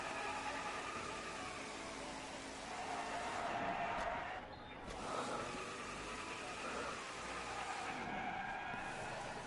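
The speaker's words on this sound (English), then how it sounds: "Still doing some burnouts here" A NASCAR Cup race car does burnouts at Texas Motor Speedway after the Wurth 400, its tires screeching and engine roaring in long waves over crowd noise, fairly faint and distant.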